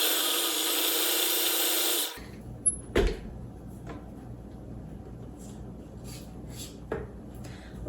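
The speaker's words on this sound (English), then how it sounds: "now I'm going to mix it up on high until it's all combined" Electric mixer whirring on high through brown sugar cookie dough, a loud steady motor drone for about two seconds that then cuts off, followed by a few soft knocks and bumps.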